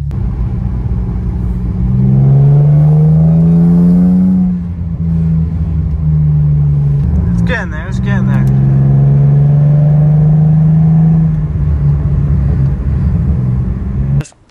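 A warmed-up car engine fitted with a throttle body spacer rumbles loudly and revs up and down in long sweeps, close by, while a person talks over it briefly.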